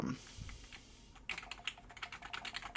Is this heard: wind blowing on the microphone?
no